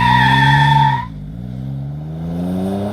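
A 2020 Toyota TRD Pro, Sequoia or 4Runner, holds a loud, close engine roar while its tires squeal, the pitch dipping briefly and then climbing again as the revs build.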